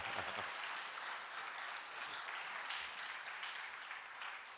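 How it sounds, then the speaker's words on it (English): Steady applause from a conference keynote audience, broad and even throughout, with no clear voices over it. "Yeah, clap it up."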